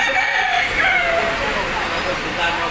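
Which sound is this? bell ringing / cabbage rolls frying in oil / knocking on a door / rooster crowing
rooster crowing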